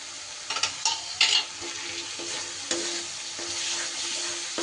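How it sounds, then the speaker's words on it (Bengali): Cauliflower masala with ground cashew and Gobindobhog rice powder being stirred and fried in oil, a steady close sizzle broken by several sharp scraping strokes of the spoon against the pan. "ভালো করে এবার কষিয়ে নিতে হবে।"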